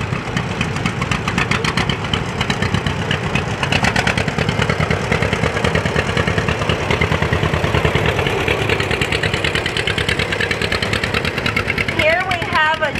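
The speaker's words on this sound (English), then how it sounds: "right now we're looking at a John Deere Model BR. It's a 1940" A 1940 John Deere Model BR tractor idles at an antique tractor parade, its engine giving a close, rhythmic putt-putt beat that stays steady throughout, with voices in the background.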